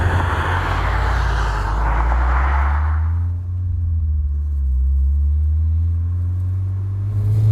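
A Mitsubishi Lancer Evo 10 engine gives a loud, deep, steady drone with a low hum. A rising whine fades after a few seconds and the rumble settles at a constant pitch.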